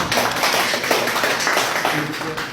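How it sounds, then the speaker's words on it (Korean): Dense, steady applause from an audience at a ceremony honoring a security guard in Angeles, Philippines, with many hands clapping in a continuous wash that fills the moment with no pause. "박수 한번 쳐주세요."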